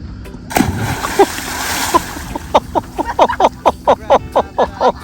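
A person slaps into open sea water after a backflip dive off a sailing boat in Turkey, one heavy splash followed by rhythmic sloshing and lapping against the hull.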